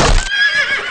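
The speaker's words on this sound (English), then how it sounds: "Spare the horses, Maharbal." Horses neigh and whinny loudly in a scene from a Hannibal war film, a shrill, drawn-out call rising over a brief burst of noise, with no talking.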